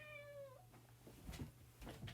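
A pet cat gives one clear, close meow that rises and falls, followed by soft shuffling and light knocks nearby.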